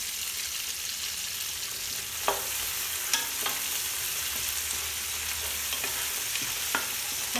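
Green chillies, roughly chopped tomato and fenugreek leaves stir-fried in a pan for country chicken biryani, a low continuous sizzle with regular scraping strokes and occasional light clinks of the spatula.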